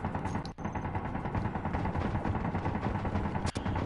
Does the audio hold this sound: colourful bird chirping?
no